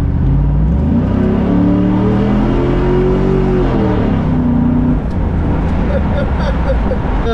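A 2003 Chevy SSR V8 truck engine revs up with a rising, then falling growl before settling into a rough, rumbling idle, loud and close.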